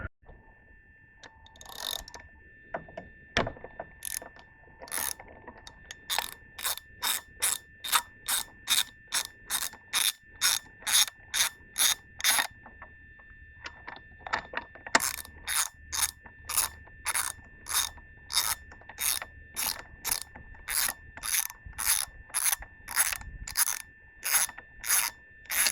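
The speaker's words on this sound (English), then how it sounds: "that was a 16mm socket I just used" Ratchet with a 16mm socket working the spark plugs on a Tohatsu 40–50 hp four-stroke outboard, long runs of crisp rhythmic clicking in regular strokes with brief pauses, close and clear with no talking.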